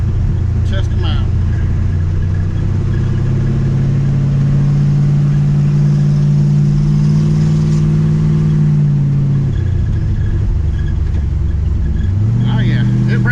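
A 1958 Dodge Coronet drives along a curvy road during a brake test, its engine holding a loud, steady droning hum from inside the car that dips and shifts as speed changes, with voices talking over it.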